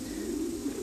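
A soft, low cooing from Thai pigeons kept at a breeding farm, a brief steady murmur heard alone and fairly faint.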